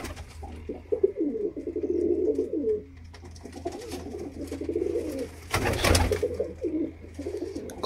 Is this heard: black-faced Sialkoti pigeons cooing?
yes